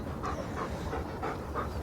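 Dogs pant in quick, rhythmic breaths while playing in long grass outdoors, close and fairly steady across a short stretch with no talk.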